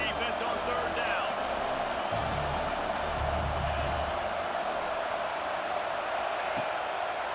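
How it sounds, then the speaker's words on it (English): Stadium crowd noise from an American football video game, College Football 26, swelling steadily on a third-down defensive stand, a continuous loud roar with no breaks. "Decibels rising as the crowd gets behind this defense on third down."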